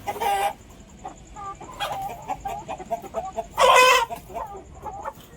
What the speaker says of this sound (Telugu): ఆ కోళ్ళు